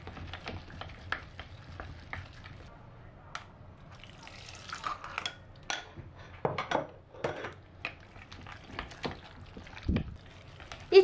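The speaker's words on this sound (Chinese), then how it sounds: "一直把肉馅搅拌上劲就可以了。" Minced meat filling is stirred with scallion-ginger water, wet squelching and tapping strokes repeating irregularly at close range, fairly quiet with occasional louder slaps.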